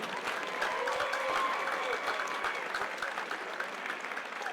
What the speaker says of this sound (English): Give a grand applause for Folklorico.